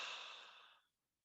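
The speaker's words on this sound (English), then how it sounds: "And I want you to start to take a deeper breath." One deep breath is let out as a long, airy exhale, close and clear, fading gradually into near silence after about a second.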